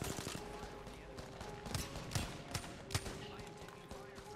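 Distant rapid gunfire in Apex Legends, a faint, uneven stream of cracking shots and short bursts continuing throughout under quiet game ambience, with a voice talking over it.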